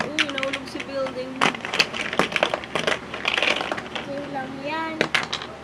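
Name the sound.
Lego block building toppling over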